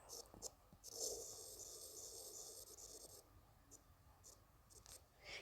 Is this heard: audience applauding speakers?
no